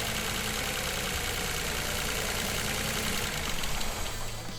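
The 1.0 SCe engine of a Dacia Sandero fitted with an E85 ethanol kit runs at a steady idle, a dense, even mechanical drone heard close without pause.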